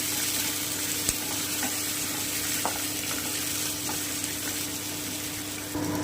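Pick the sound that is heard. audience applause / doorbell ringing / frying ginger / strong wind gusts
frying ginger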